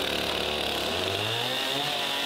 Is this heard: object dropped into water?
no